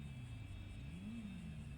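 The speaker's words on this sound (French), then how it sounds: "Au moins, il y a une voiture qui arrive." A car approaching in a GTA role-play game, a steady mid-pitched engine drone with a gentle rise in revs partway through, heard alone with no talk over it.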